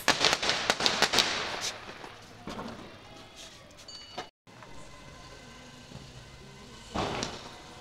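Diwali firecrackers go off outdoors in a rapid burst of sharp cracking pops, then scattered louder bangs after a short pause, set against faint background voices.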